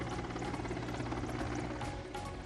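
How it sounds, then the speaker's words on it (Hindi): A helicopter flies over a civil hospital in Panchkula, India, dropping flowers in a tribute, its steady, loud rotor and engine drone filling the whole stretch without a break. "पंचकुला के सिविल हॉस्पिटल पर भी हेलीकॉप्टर से बरसाए गए फूल"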